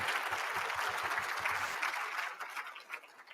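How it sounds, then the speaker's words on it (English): Applause at a State of Indian Nations congressional response event: a crowd's dense, distant clapping in a continuous roar, thinning and fading over the final second. "Let's give them another round of applause."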